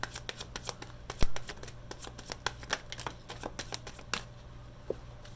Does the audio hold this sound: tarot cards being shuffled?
yes